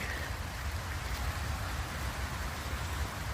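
Steady rain hisses continuously at a campground, a dense wash of drops falling on surfaces with no break and no voices.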